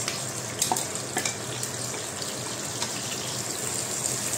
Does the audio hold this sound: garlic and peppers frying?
yes